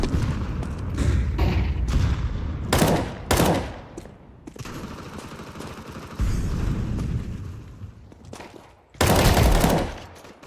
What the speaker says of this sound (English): Throwing flashbang. Throwing a grenade.